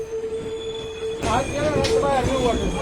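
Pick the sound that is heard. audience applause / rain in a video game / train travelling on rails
train travelling on rails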